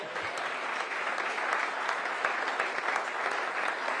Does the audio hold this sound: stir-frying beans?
no